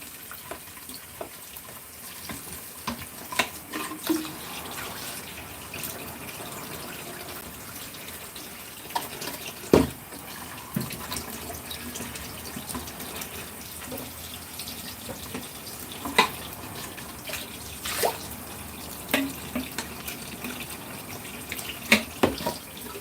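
Water running steadily while being filtered, a continuous faucet-like flow with scattered clinks and knocks of handling, fairly quiet and with no talk.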